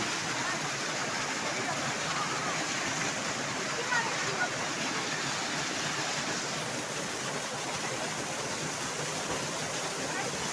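Water rushes continuously in a dense, even roar, like a waterfall close by, with no break across the stretch.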